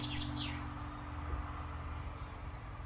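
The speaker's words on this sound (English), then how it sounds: "Along the way, the only sound you'll hear are the birds." Faint, high birdsong chirps and twitters over a soft, steady background hum, with no voices present, on a forest trail at Meteora, Greece.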